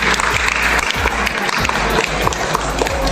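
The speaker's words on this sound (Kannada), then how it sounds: "ಎಲ್ಲರಿಗೆ ಜೋರಾಗಿ ಚಪ್ಪಾಳೆಯನ್ನು ತಟ್ಟಿರಿ" A crowd at a pigeon racing prize ceremony in Dharwad claps loudly and continuously, dense overlapping applause close by with some voices mixed in.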